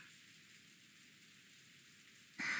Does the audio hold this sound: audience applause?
no